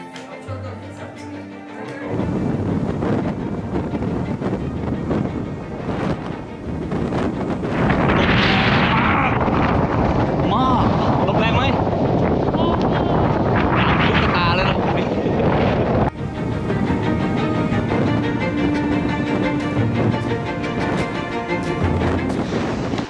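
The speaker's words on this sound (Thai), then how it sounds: "โอ้ลมแรงจริง" Strong wind on the Kungsleden trail in Sweden gusts and roars into the microphone throughout, a dense loud rush that swells in the middle.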